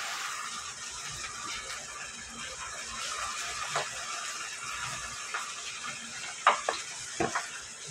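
An egg sizzles in a hot pan with a steady, close frying hiss, broken near the end by a few sharp crackles and utensil taps.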